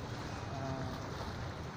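Choppy sea at a harbor around sunset with a breeze: a steady, loud wash of churning water and wind rumble with no breaks, heavy in the low end and without voices.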